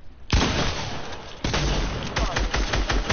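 Rapid bursts of video game gunfire, loud and close, with a dense volley opening the stretch, a second wave partway through, then clustered rapid shots continuing to the end.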